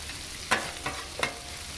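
Sausage and garlic stirred in a frying pan, with three brief scraping bursts of a utensil against the pan over a low background hiss; no voices.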